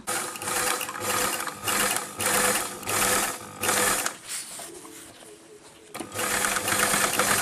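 A domestic sewing machine runs loud and close, stitching a seam on a kimono jacket in a series of rapid pulsing bursts with a brief slower pause midway.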